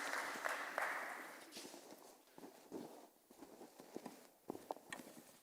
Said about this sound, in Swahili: Wapigieni makofi for that gesture